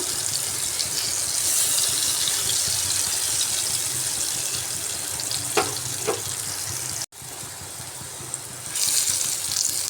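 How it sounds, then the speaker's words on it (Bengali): Potatoes coated in salt and turmeric sizzle steadily as they fry in a pan, with a couple of brief scraping turns and a short drop in the hiss near the end before it resumes. "আলুগুলোকে ভালোভাবে নাড়িয়ে উল্টে পাল্টে লাল লাল করে ভেজে নিতে হবে"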